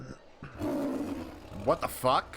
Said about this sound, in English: It's the cry of a local bird known as a warbod.